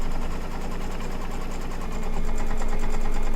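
A home embroidery sewing machine stitches an in-the-hoop quilt block, its steady rapid needle chatter running close and loud throughout, with a faint motor hum beneath and no talking.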